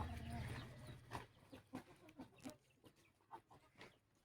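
Chickens cluck in a series of short, separate calls near a rural Tamil home at feeding time, after a louder mixed stretch at the start; a faint voice is heard briefly.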